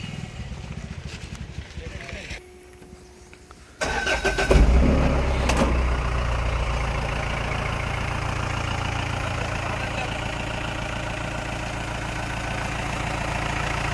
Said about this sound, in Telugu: ఇంజన్ కూడా స్టార్ట్ చేసి చూపిస్తామన్నా.